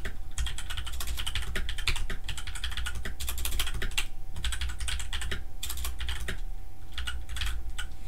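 Rapid, steady typing on a computer keyboard, close and clear, with dense clicking keystrokes and a few short pauses, running alone over a low background hum.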